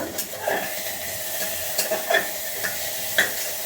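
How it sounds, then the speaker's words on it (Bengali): Ginger and spices frying in a pan while being stirred, a soft hiss broken by a few light scraping and tapping strokes of a utensil against the pan. "এবার হচ্ছে নাড়িয়ে নেব।"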